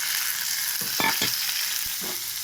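Spices are stir-fried in a pan with chopped tomato, salt and turmeric, plus a paste of ginger, cumin and dried red chilli, for a small-fish curry. A steady broadband sizzle runs throughout, broken by a few louder scraping stirs near the middle.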